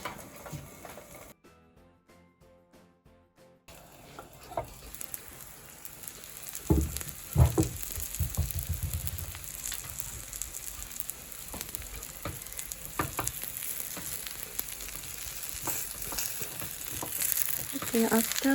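Okonomiyaki batter fries in a covered pan, giving a steady sizzle and crackle that grows louder over time, with a brief mechanical clicking burst early on and occasional clatter.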